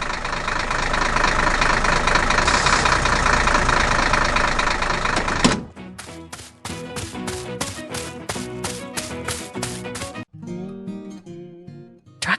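An animated tractor's engine runs while the tractor moves: a dense, steady rumble first, then a brisk run of rhythmic chugging knocks at moderate loudness with no voices.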